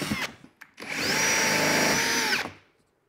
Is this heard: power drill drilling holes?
yes